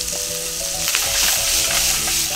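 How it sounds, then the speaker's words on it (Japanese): Garlic frying in a pan with browned ground pork seasoned with salt and pepper, a loud continuous hiss and crackle held close throughout, with faint stirring knocks and no talking. "軽く炒めたらニンニクをまず入れます。で香りをつけます。"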